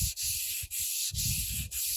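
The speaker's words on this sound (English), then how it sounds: "Another good alternative to pumice stones is drywaller's sanding screen stapled on a wood block." Rhythmic back-and-forth scrubbing of a drywall sanding screen on a wood block against a crosscut saw blade, four quick strokes with brief pauses, close and fairly loud.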